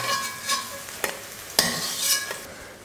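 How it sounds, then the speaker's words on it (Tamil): Eggplant sautéing in oil in a pan: a steady soft sizzle broken by several sharp scraping stirs of a spoon or spatula, close and clear, with no talk. "அதனால இந்த மாதிரி எண்ணெயில் வதக்கி எடுத்துக்கணும்."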